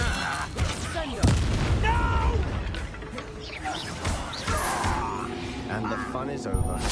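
A Bombarda blasting spell explodes in Hogwarts Legacy, a loud booming blast amid game combat, with a voice talking over the noise.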